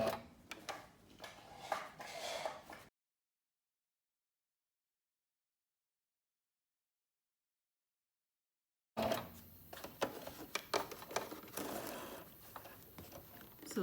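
Singer Brilliance 6180 sewing machine stitching a one-step buttonhole, a dense rapid ticking patter of the needle that runs for a few seconds, breaks into a long silence, then resumes steadily close by.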